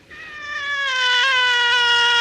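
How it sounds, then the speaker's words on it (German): A single drawn-out cat meow, close and loud, rising then holding its pitch for about two seconds. "Das ist eine Katze"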